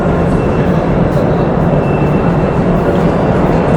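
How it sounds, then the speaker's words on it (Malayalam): Loud, continuous rumbling of a tourist train moving off at Postojna Cave, Slovenia, rolling along the tracks, a dense steady roar that stays even throughout. "മറ്റ് സഞ്ചാരികൾ എടുക്കാനായിട്ട് ഈ ട്രെയിനിന് ഇവിടുന്ന് മൂവ് ചെയ്ത് പോവുകയാണ്"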